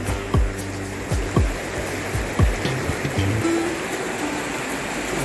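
Tham Phra waterfall in Thailand rushing hard, heard from below as a steady broadband roar of falling water with a few low thumps, no voices.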